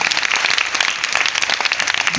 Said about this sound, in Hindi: तालियां होनी चाहिए उस पर्सनालिटी के लिए